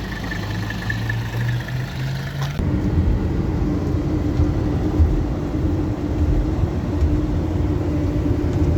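A 1982 Mercedes-Benz 300CD W123 turbo diesel coupe runs with a steady low engine drone from inside the cabin, shifting to a rougher, louder rumble partway through and holding there with no talking.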